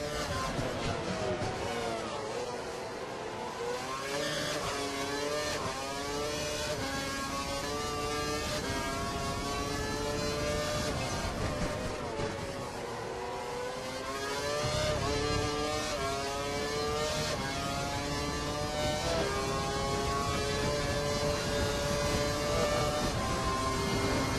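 Racing car engine from the F1 2012 video game held at full revs, a loud continuous high-pitched whine with harmonics rising and shifting through gear changes, running steadily throughout alongside other cars.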